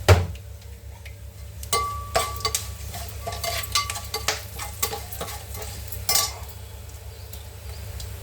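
Tempering spices with turmeric crackle and sizzle in a hot pan, with a soft frying hiss broken by scattered clinks and scrapes of a utensil stirring against the metal.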